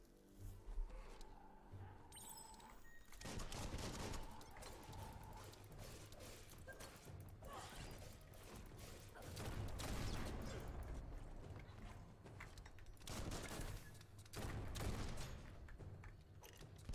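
Gunfire in the action video game Biomutant, dense bursts of shots and booms layered over game music and mechanical effects, continuous and loud throughout.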